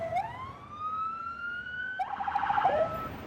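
A police car siren wails up and holds a long rising tone, then switches to a rapid warbling yelp, loud and fairly close, with no talk over it.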